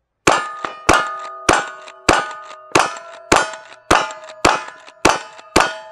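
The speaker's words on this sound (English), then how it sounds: "Stage 4 starts with the rifle, 4 shots at the middle target and then alternating 2 shots per side targets." Nine ringing metallic clangs from rifle shots striking steel targets at a cowboy action shooting stage, evenly spaced and loud, each ping decaying before the next.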